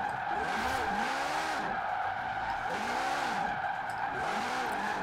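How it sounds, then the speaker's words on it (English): A car on drag tires slides sideways in Forza Horizon 4, its engine droning at a steady high pitch under continuous tire squeal, with the revs wavering up and down as the drift holds. "I can just keep this at whatever angle I want, and it just keeps going sideways"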